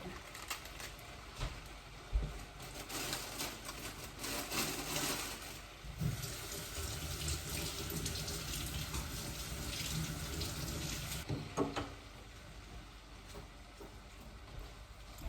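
Lettuce leaves are rinsed one by one under a running kitchen tap, with a steady close stream of water splashing into the sink and brief clatters as the leaves are handled.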